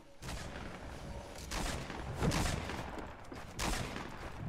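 Gunfire in Fortnite crackles in several loud bursts of rapid shots, spaced about a second apart, over a steady busy game background.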